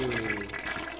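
Toilet flush from the video game Criatura Crunch, a continuous watery rush and gurgle of draining water lasting about a second, fairly close and steady.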